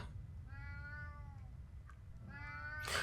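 A cat in the video game RuneScape gives two drawn-out, tonal meows over a low game-music hum, with a short click between them.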